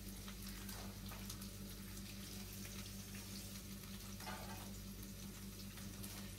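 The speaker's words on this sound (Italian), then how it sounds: "lavatina alle mani" Tap water runs steadily while hands are washed under it in a home kitchen during Italian cooking, a constant soft splashing hiss with a low hum beneath.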